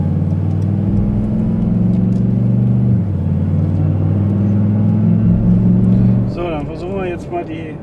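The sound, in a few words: Brabus vehicle driving on a test track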